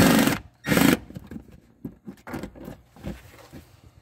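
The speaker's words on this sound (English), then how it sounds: "You can do it with a wrench, but I've got an impact driver right here." An impact driver with an 8mm socket removes a screw on a Mercedes B-Class B250e. Two loud, short rattling bursts come first, followed by quieter scattered clicks and handling noise.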